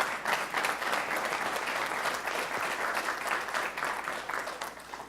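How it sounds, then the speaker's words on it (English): Dense, steady applause from a large business audience, many hands clapping continuously at an even, fairly loud level with no speech over it. "Now that you can applaud"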